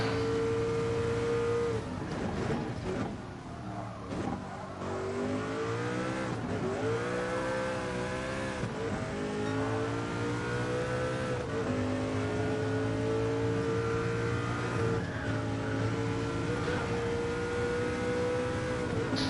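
A race car in GT Sport, a Group 1 car, revs hard through the gears with repeated shifts and rising engine whine, continuous and loud, with occasional tire noise.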